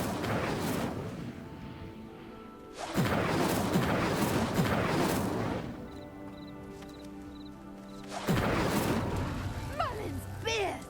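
The Incendio fire spell ignites pyres in Hogwarts Legacy. Three loud whooshing bursts of flame roar up, each fading before the next, and a voice speaks briefly near the end.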